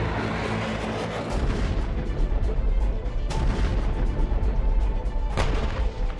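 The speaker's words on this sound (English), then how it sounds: "There's been a rocket intercept." A rocket interception explodes over northern Gaza, heard from a distance as a continuous rumbling roar. Two sharper booms cut through the steady low thunder.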